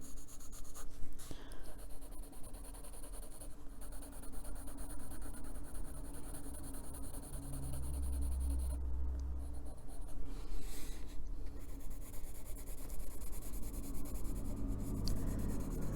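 An Inktense pencil drawn lightly over inked lines on paper, producing soft continuous scratching and rubbing strokes, quiet and close with no talking.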